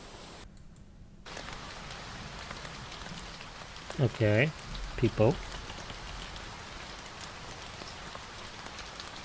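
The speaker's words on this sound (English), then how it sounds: "rain in the forest, right?" Rain in a forest ambience sample, a steady soft patter of drops throughout, with a person speaking briefly over it midway.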